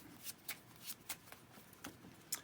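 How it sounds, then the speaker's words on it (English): A regular deck of playing cards is shuffled by hand in a series of about eight quick, crisp riffling bursts, close and fairly quiet. "I'll shuffle these up."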